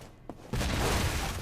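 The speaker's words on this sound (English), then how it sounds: "I'm reading a C4 explosion in your area" A C4 explosion in the spy game Alpha Protocol, a sudden loud blast after a brief quiet moment, followed by a sustained roaring, crackling wash of noise.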